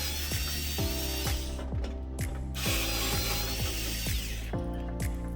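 Rapid clicking of a ratchet driver backing out screws on a Samsung washing machine, steady close clicks repeating in short runs with no talking.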